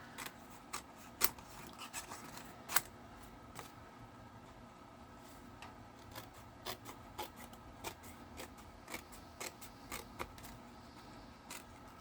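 Repeated crisp snips of scissors cutting through stiff cardstock, irregular clicks spaced across the quiet, close and moderately loud.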